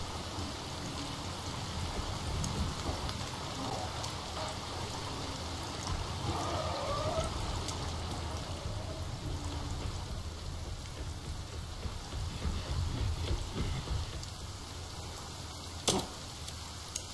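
Steady rain falls in the survival video game The Forest, a constant soft hiss of downpour with faint droplet patter and one brief sharper tick near the end, no talking.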